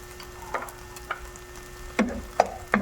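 Leftover dish being sautéed in a pan, a soft background sizzle broken by several sharp scraping stirs of a utensil against the pan, spaced irregularly.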